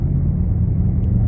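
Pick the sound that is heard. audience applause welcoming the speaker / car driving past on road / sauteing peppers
car driving past on road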